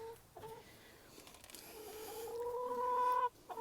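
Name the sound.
chickens clucking in a coop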